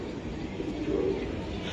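A Pakistani teddy pigeon coos softly in a low, steady rumble over a continuous noisy background, with no talking.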